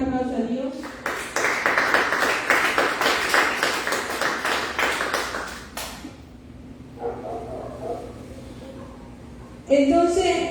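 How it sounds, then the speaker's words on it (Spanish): Congregation applause during a Spanish-language church service, a burst of many hands clapping for several seconds, then fading to quieter sounds before a voice resumes speaking. "Un fuerte aplauso a Dios."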